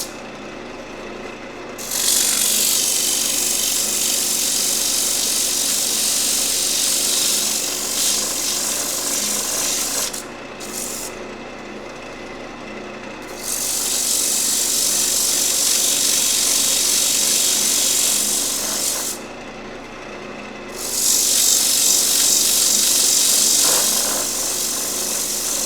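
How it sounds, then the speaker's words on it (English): Old sandpaper rubbing a wooden ring holder spinning on a lathe, a loud continuous abrasive hiss in three long passes separated by short pauses, with the lathe's hum underneath. "Now I'll do a little sanding on this."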